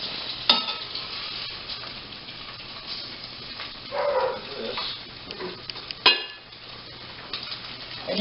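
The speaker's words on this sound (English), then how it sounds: "We're going to go ahead and put that right into the pot, and it should start sizzling." Jimmy Dean breakfast sausage sizzles steadily in an oiled pot, a continuous close frying hiss with a few sharp clinks of a utensil against the pot and occasional stirring scrapes.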